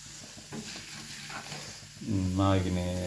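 Ginger garlic paste sizzles while frying in hot oil, a soft steady hiss that swells louder near the end, with a voice briefly heard over it.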